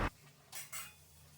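Dishes being washed in a home kitchen: a sharp clatter at the start, then two brief metallic clinks of utensils against pots over a quiet background, with no talk.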